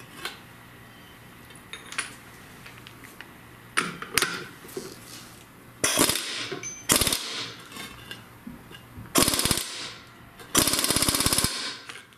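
Metallic clicks, clanks and ratcheting bursts from tightening a Chrysler/Dodge AAM 9.25 front differential center section during a rebuild, coming in irregular short clusters that grow louder toward the end, close by with no talking.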